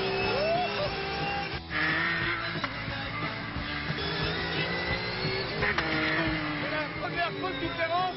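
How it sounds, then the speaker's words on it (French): Porsche 992 GT3 Cup race car engine and gearbox droning loudly with shifting tone, the motor note and transmission whine running throughout. "La première grosse différence, c'est le son du moteur et de la boîte."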